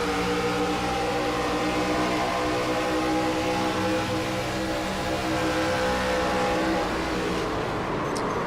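Onboard sound of an ARCA race car at Atlanta as the driver rolls out of the dog leg, a loud steady engine drone with many harmonics that dips slightly near the end as he lifts briefly.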